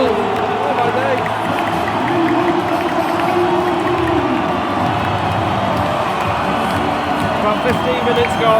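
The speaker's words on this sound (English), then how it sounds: "Broken the deadlock, and the crowd's going absolutely wild" A packed football stadium crowd roars continuously after a goal at an Arab Cup match in Qatar, a dense, loud wall of cheering and shouting throughout.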